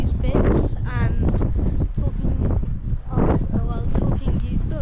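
Strong gusts buffet the microphone at Tilbury Fort beside a large moat and gun emplacement, a loud rumbling roar that continues under someone talking.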